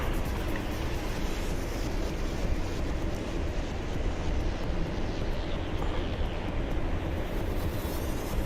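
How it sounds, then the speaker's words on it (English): A video-game aircraft's APU generator runs with a loud, dense, unbroken roar that holds steady throughout, with no speech over it. "Turning on the APU generator."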